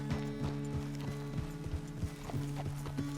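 Horse hooves clip-clop at a walking pace in Red Dead Redemption 2, regular paired beats repeating steadily, set against a low droning musical tone.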